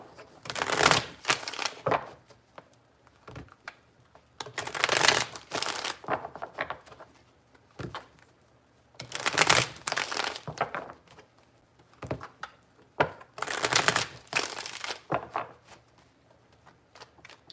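Cards are shuffled in four distinct riffling bursts, each a quick crisp flutter, with light tapping and handling sounds between them.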